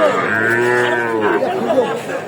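A cow lows loudly and close by at a cattle market, one long drawn-out moo, with faint chatter of people behind it.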